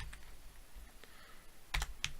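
Quiet keystrokes on a computer keyboard, a few scattered taps followed by a close pair of sharper clicks near the end, with no talking.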